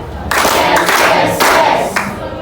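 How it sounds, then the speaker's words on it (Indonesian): A class of students claps hands together in unison three times, three sharp, loud, evenly spaced bursts with no talking between them. "tadi kita mulai tepuk tangan 3 kali"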